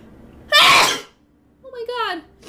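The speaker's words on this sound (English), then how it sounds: "I'm sorry, I cannot stop sneezing." A single loud, sharp sneeze bursts out close up, followed by someone speaking afterward.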